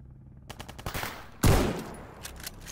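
Gunfire in the video game S.T.A.L.K.E.R. GAMMA: a rapid burst of shots crackles for about a second, then one loud, close blast rings out, followed by scattered fainter shots and echoes.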